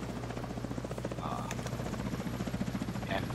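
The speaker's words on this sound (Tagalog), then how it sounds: "Enemy helicopter approaching." Enemy helicopter in the shooter game The Division 2, a loud rhythmic rotor chop with a droning low hum, running steadily under game sounds and brief talk.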